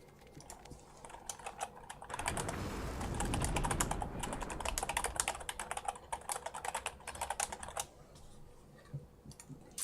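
Rapid typing on a computer keyboard, dense clattering keystrokes building from about two seconds in and running busily to near the end, loud and close with no talk over it.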